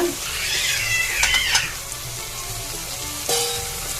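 Brinjal masala with tomato and green chili sizzles in a pan as turmeric and coriander powder are stirred in, giving a steady close frying hiss with a few scraping stirs and no talking.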